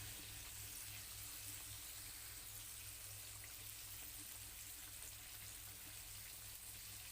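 Chicken pieces deep-frying in hot oil until fully cooked, a steady dense sizzle and crackle that runs continuously without pause over a faint low hum.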